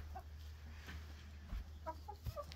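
Chickens cluck softly around a coop, scattered short calls at a low level over a faint steady hum, with a couple of small knocks.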